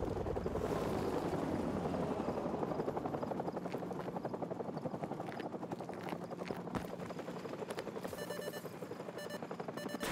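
A military helicopter in Call of Duty 4: Modern Warfare Remastered thumps loudly and steadily with rapid rotor chop throughout, later joined by a beeping alarm tone.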